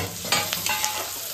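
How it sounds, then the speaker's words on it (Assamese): Turmeric, garlic and four green chillies frying over low flame in a pan for chicken curry, a steady close sizzle with a few soft scrapes of stirring, no talk. "লো ফ্লেমত অলপ টাইম ভাজিব"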